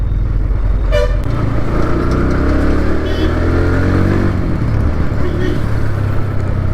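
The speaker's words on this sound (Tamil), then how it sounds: "அப்படியே வண்டி சீறி பாயுதுங்க. நம்ம வண்டி வந்து பார்த்திங்கன்னா பல்சர் NS 160ங்க." A Pulsar NS 160 motorcycle pulling hard on a city street, its engine roaring loud and steady throughout, with a brief horn toot from nearby traffic early on and dense road noise around it.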